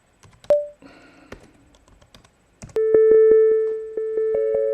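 A software synthesizer's test output plays with delay: a few short electronic blips and scattered clicks, then a sustained synthetic tone with rhythmic pulses repeating and echoing, fairly loud and close.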